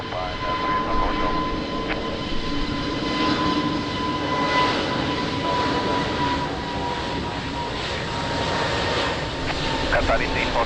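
Aircraft engines hum steadily at Lisbon Airport on a rainy day, a continuous mid-distance drone with a faint tonal whine throughout, while radio chatter between the tower and pilots runs over it.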